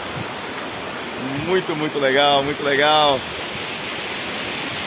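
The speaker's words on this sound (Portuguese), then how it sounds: "Cachoeira das Fadas, em Conselheiro Mata" Cachoeira das Fadas waterfall at Conselheiro Mata in Diamantina, a steady, broad rush of falling water running throughout, with someone speaking excitedly over it for a moment.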